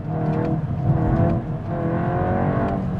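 A turbocharged VW Golf GTI Clubsport 45 Edition engine drones and rises in pitch as it revs after a downshift, steady and fairly close, with no voices.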